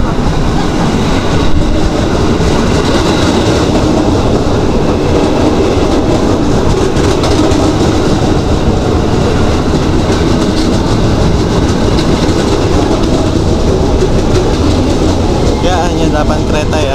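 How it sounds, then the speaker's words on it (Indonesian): A KRL commuter electric train bound for Jakarta Kota rumbles at platform 7, a loud, continuous roar with rhythmic clickety-clack of wheels on rail joints, close by and sustained, with voices faintly beneath. "KRL arah Jakarta Kota di jalur 7."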